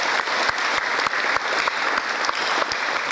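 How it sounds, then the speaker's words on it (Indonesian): Lively applause from a crowd at a parenting seminar, steady and fairly close, with a few sharper individual claps standing out. "Oke, kita sambut dengan tepuk tangan yang meriah."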